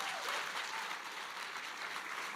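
A studio audience claps in a steady, dense round of applause at an event celebrating ten years of Saskatoon Morning, holding even throughout with no voices on top.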